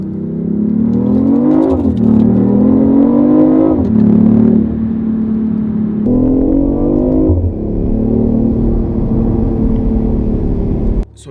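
A BMW i8 hybrid coupe's 1.5-liter three-cylinder gasoline engine revs repeatedly, loud and close, each rise in pitch followed by a drop back to a steady drone, with no talking.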